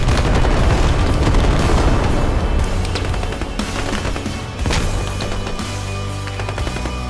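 A frag grenade explodes in the military shooter game Squad, a loud, deep boom and rumbling blast that fills the whole span, with sharp crackles and rattling gunfire-like bursts layered through it.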